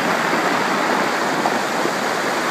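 Waves break on a narrow beach at high tide, a loud, dense, continuous roar of surf with no gaps and no voices.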